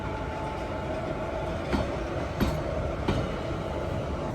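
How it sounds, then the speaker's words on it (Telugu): WAG 7 locomotive from the Ratlam loco shed moving off for loco reversal, a steady rumbling rail roar with a few soft wheel clacks spaced a second or so apart, no voices. "ఒక లోకోమోటివ్ వస్తుంది కదా, మన లోకోమోటివే. లోకో రివర్సల్ కి అయితే తీసుకెళ్తున్నారు."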